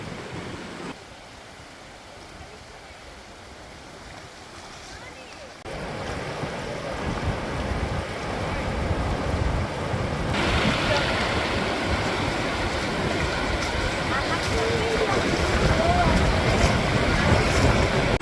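Sea waves roll onto the beach at Mandarmani in a constant low roar, mixed with heavy wind buffeting the microphone, growing louder and fuller partway through.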